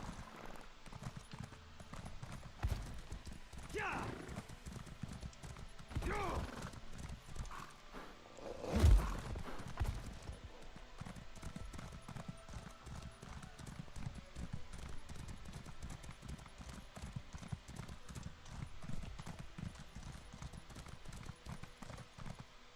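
Horse hooves clip-clop at a gallop in the video game Elder Scrolls Online, a steady, fairly faint rhythmic beat of hoofbeats lasting throughout, with a brief louder thump midway.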